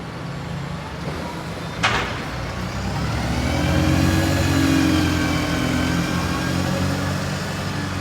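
A bus engine idles and then revs up at Lincoln Central bus station, a loud, close rumble with a brief hiss of air brakes or doors early on, and the drone swelling before settling.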